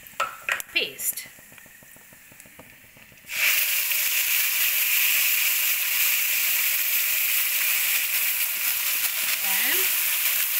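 Onion paste hitting hot oil with bay leaf and red chili, a sudden loud hiss and sizzle that bursts in and holds steady after a few clatters, with a voice speaking briefly over it.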